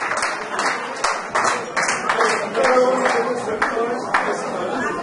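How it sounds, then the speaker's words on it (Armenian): Wedding guests at an Armenian celebration applaud, a dense run of clapping with scattered cheers and chatter, steady and fairly loud throughout. "Զորակալություն ծափարությունների"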